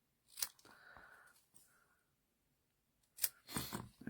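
Paper is cut at angles with scissors for handmade cards: a few short, close snips and crisp cuts separated by quiet gaps, ending with a louder cluster of cutting sounds.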